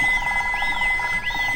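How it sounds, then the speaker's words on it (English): A cartoon phone rings with a steady electronic tone that sweeps up and down in a repeating pattern, moderately loud and with no talk over it. "Dr. Hamster's phone rings for a fourth time."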